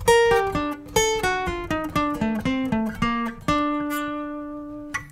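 An electric guitar plays bar 12 of the solo, a run of clear picked notes moving through the phrase and ending on a long sustained note that rings out and fades, close and unaccompanied.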